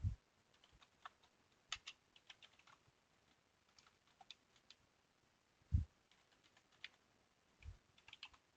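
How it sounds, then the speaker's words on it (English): Someone types a recovery phrase on a computer keyboard, producing a quiet, irregular run of close key clicks with a few heavier keystroke thumps and short pauses between bursts. "So let me go and type that in."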